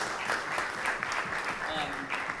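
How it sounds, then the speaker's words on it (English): Audience applauding a university debate team, fairly faint scattered clapping from a modest crowd with some voices and murmurs mixed in over a couple of seconds. "so give them a round of applause"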